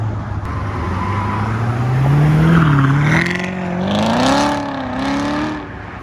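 A Chevrolet Corvette Z06 rolls out of a car meet, its engine revving up and down in rising and falling sweeps, loud and close, then easing off.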